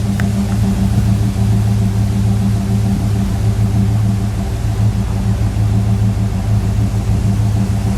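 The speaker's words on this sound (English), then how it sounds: "Listen to it idle." Close, steady idle of a 1979 Chevrolet Camaro Z28 350 V8, a deep even burble with a slight lope that runs unbroken, with no voices over it.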